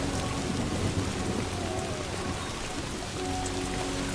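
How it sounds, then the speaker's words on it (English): Steady rain pours with rolling thunder in the Death Stranding 2 video game, a dense, even wash of falling drops and a low rumble, continuous and close with no talking. "I sound like I'm in the rain."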